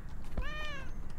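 A short, bright cat meow sounds once in Please, Touch the Artwork 2, a clean harmonic call that swells and fades within a second, with no voices over it.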